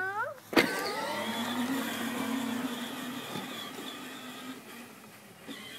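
A child's electric ride-on toy car drives and accelerates, its small motor giving a steady, close whine after a sharp click at the start. The whine holds fairly even, then eases off toward the end.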